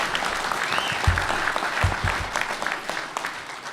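An audience at a Massachusetts town hall meeting on Agent Orange applauds Vietnam veterans, a dense sustained clapping from a crowded room that carries through the whole stretch with no talking.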